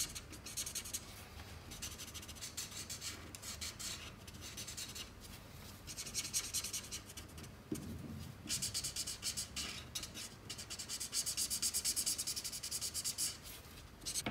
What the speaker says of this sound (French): Ensuite, avec du gris chaud 3, je vais venir colorier tous les bords ici.